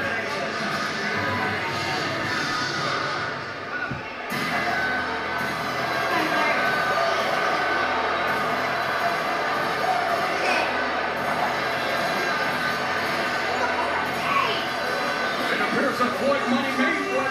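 Dense arena crowd at a boxing match roars and chatters steadily for Conor McGregor, a broad continuous wash of cheering voices with a brief dip partway through, no single voice standing out.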